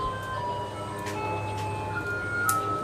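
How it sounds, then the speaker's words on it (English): A neighborhood ice cream truck plays its tinkly tune at a distance, faint and steady under a constant outdoor background. "In the background, you'll hear our friendly neighborhood ice cream truck."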